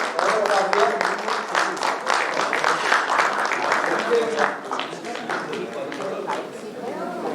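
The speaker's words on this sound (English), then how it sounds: "Big round of applause for Captain Bhatt." A crowd at the FSM 2023 maritime conference in Goa gives a seafaring captain a round of applause, dense clapping running throughout while a voice talks over it.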